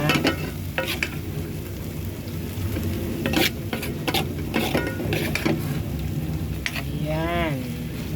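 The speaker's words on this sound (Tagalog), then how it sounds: "Luto tayo ngayon ng munggo." Mung beans (munggo) sizzle and fry in a pan with a constant crackle, broken by clacks and scrapes of a utensil stirring, and a brief voice near the end.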